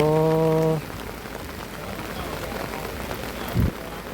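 Steady rain falls on a roof during a storm, a continuous close hiss of drops throughout, with a short voice-like tone at the start and a brief thump near the end.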